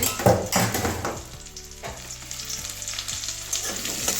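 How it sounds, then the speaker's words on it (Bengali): Potatoes frying in oil in a home kitchen, giving a soft, steady sizzle with occasional stirring scrapes and knocks; a quiet fry with no voices. "ওই তেলের মধ্যে আলুটা ভেজে নিচ্ছি"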